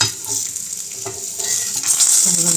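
Raw banana slices frying in a pan and being flipped, a close sizzle with light scraping and utensil clinks that builds toward the end, with no one speaking.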